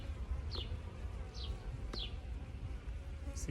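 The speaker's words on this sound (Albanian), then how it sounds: "Siç shihet, bleta është e qetë." Honey bees hum in a hive during a queen check, after new queens have mated. A faint, steady low buzz runs throughout, broken by a few brief sharp chirps or ticks.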